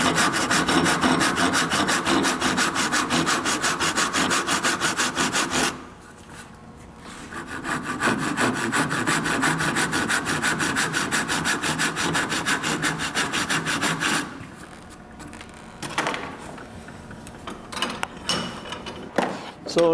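A hand saw cuts into a block of wood held in a vise, half a centimeter deep, in making a wooden mallet: rapid, rhythmic rasping strokes up close, with two brief pauses before sawing resumes, the last strokes more irregular.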